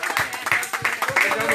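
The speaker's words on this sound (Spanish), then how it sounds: "Le damos un aplauso al Señor" A small studio crowd at a Christian radio broadcast claps in a quick, irregular burst of applause, moderately close, with voices talking and cheering along with the clapping.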